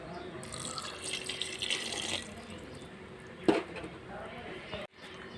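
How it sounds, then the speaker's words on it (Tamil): Water is poured into a pot of cooked mushrooms for mushroom biryani, two parts water to one of rice, a steady splashing stream running for about two seconds and then quieter kitchen sounds with a sharp clatter. "இப்போ 1க்கு 2 தண்ணி ஊற்றிக்கணும்"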